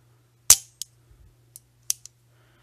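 The action of a Franchi 48-AL 12-gauge shotgun, worked by hand, gives a sharp metallic snap followed by several lighter clicks spaced across a quiet background, close and crisp.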